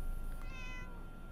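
A single clear cat meow rises over steady background noise, short and tonal, sounding like a game sound effect.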